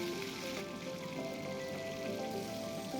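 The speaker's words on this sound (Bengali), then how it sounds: "তারপরে কড়াইয়ে তেল দিয়ে মাছগুলো নুন হলুদ মাখিয়ে ভেজে নিতে হবে।" Hilsa fish pieces coated in salt and turmeric fry in oil in a wok, giving a steady, soft, continuous sizzle like light rain, close by with no talk.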